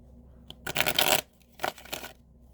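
Tarot cards are shuffled in two quick bursts, a longer riffle followed by a shorter one, crisp and close with quiet pauses between.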